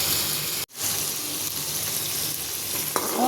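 Eggplant and potato frying in a pan give a steady, close sizzle that runs throughout, broken by one brief drop near the start and a small clink toward the end, with no talking.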